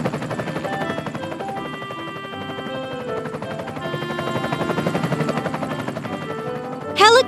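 Cartoon helicopter flying overhead, a continuous rotor-like drone with bright musical tones layered over it, ending in a short rising sparkle effect.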